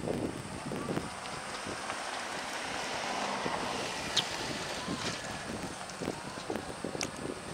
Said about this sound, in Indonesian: Dan beginilah proses kapal membelah air laut di